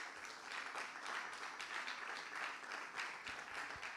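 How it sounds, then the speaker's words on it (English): An audience at a business event claps to welcome the keynote speaker: a sustained crowd ovation in waves of clapping at steady volume, with a few sharper individual claps near the end. "with a round of applause, can we welcome Mohammed Sani Adams."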